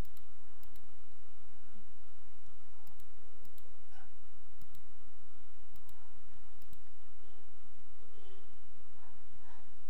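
A computer mouse clicks repeatedly through a slide show, a series of short sharp ticks spaced a second or so apart over a faint room hum.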